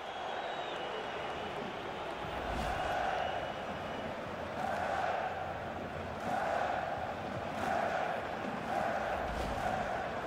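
A simulated stadium crowd in a FIFA 16 Switzerland versus Portugal match applauds a substituted player, a steady wash of cheering with rhythmic swells of clapping and chanting, fairly distant and continuous.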